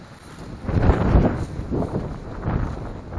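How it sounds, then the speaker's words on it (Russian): Strong wind gusts at an abandoned military base buffet the microphone in slow swells, a low roaring rush with no voices. "Ветер такой, будто нас что-то гонит."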